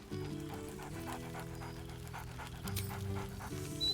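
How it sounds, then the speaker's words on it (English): Scratch the dog in Baldur's Gate 3 pants rhythmically and steadily up close, with a few bark-like bursts over a low musical drone. "Scratch barks merrily in something like agreement."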